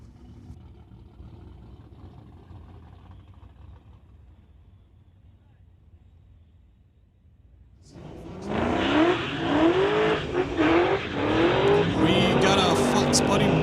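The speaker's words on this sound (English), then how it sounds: "Mustang going up against Larry Kerr from Langley in the 1997 Cobra" Street-legal drag race with a Ford Mustang against a 1997 Cobra: after quiet early seconds, loud engines roar in hard and build, revving and accelerating with squealing tires, while crowd voices and a public-address announcer carry over the din.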